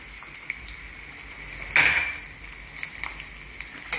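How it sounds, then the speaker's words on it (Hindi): Ginger and garlic pieces fry with cumin in hot oil in a pan, a soft steady sizzle with a louder burst as they drop in, followed by light clinks of a spoon stirring. "अब मैं इसमें फटाफट डालूंगी ये अदरक के टुकड़े, और अब मैं इसमें डालूंगी ये लहसुन के टुकड़े।"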